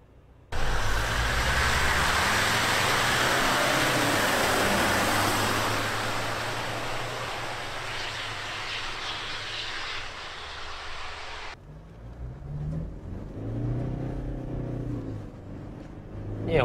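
Toyota Prado SUV accelerating hard on a test run, a loud broadband engine and road roar that holds steady for several seconds, then cuts off abruptly, leaving a quieter background with faint voices.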